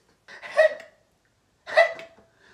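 Two sharp, voiced hiccups about a second and a half apart, each a short gulping squeak with a breathy tail, close up against silence.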